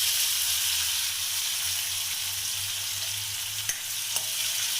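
Crushed garlic and finely chopped onion fry in hot oil for a ridge gourd and chana dal dish, giving a steady, close hiss with a couple of quick clinks from stirring near the end.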